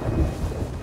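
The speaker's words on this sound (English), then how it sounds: "The storm" A thunderstorm rumbles at sea in the Sea of Thieves pirate game, a brief, loud, low roll of thunder mixed with rain and wind, with no talk.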